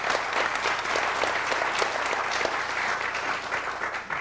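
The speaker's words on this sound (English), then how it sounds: "Give her a little bit of applause" A studio audience breaks into lively, sustained applause, many hands clapping densely with crisp individual claps, steady then tapering slightly toward the end.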